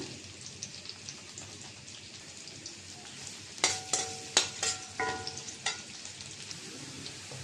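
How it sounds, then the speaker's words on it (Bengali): Steady frying sizzle of chopped onion in oil in a pan, with a burst of sharp spoon clinks and stirring scrapes midway. "পেঁয়াজটা বাজা হয়েছে"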